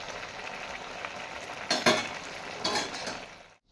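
Sabudana vada deep frying in hot oil gives a soft, steady hiss, with two brief clinks of a utensil against the pan before it fades out.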